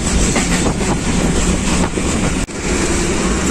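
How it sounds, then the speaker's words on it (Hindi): Pakistan Express passenger train running on the line, a loud, steady rumble with clickety-clack of the wheels and wind buffeting the microphone, one brief dropout near the end. "तकरीबन 5 मिनट लेट गुजर खान पहुंच गई है ट्रेन 46 डाउन पाकिस्तान एक्सप्रेस"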